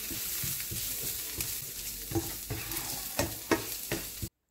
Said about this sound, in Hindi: अब इसमें 2 टेबलस्पून जिंजर गार्लिक पेस्ट डालकर 1 से 2 मिनट के लिए आप सोटे कर लें।